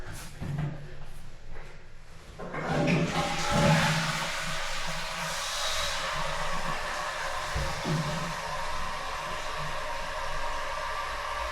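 Newly installed modern toilet flushing during a leak test, a faint rushing of water that swells after a couple of seconds and then continues as a steady low wash and trickle.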